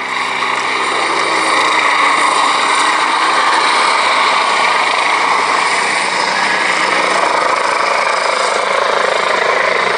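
A Westland Wasp helicopter at an airshow sends out a loud, continuous rotor and engine roar, steady and unbroken across the whole stretch.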